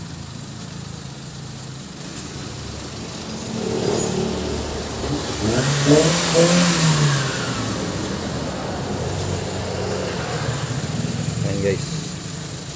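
A Suzuki mini van engine runs steadily after a drive belt and tensioner pulley change, with a rise in revs midway, while someone talks over it.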